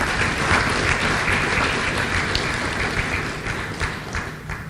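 Lecture audience giving a round of applause at an annual lecture, dense continuous clapping from a sizable crowd, full and steady before easing off slightly toward the end.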